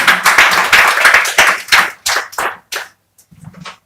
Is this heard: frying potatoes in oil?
no